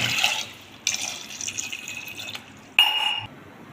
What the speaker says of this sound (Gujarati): હવે એમાં બે ગ્લાસ પાણી લઈશું